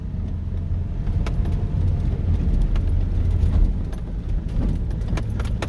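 A four-wheel-drive truck rumbles steadily downhill off-road, its low engine drone close and continuous with rattling and clanking from loose gear and the body jostling over terrain.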